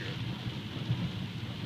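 Steady rain falls during a roadside radar speed check, a broad even wash of noise with a low rumble underneath and no voices.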